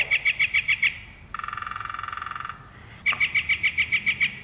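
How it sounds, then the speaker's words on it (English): A northern flicker calls in a rapid run of bright, evenly spaced notes, breaks into a long, fast, even rattling series, then repeats the quick run of notes, clear and close with no talk. "I have a northern flicker."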